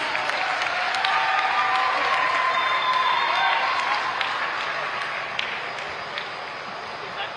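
A ceremony audience at the closing of the International Purple Fest in Goa applauds and cheers for the Minister of Social Welfare, a dense, steady wash of clapping that holds at even strength throughout and eases slightly near the end.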